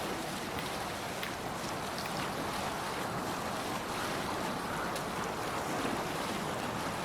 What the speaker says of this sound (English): We're just swimming in this water